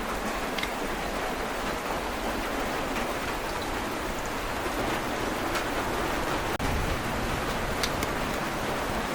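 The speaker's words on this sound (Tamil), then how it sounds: "நல்ல மழை பிடிச்சிருச்சுங்க" Steady heavy rain hisses without pause, a dense, even wash of falling water close by, with no voices.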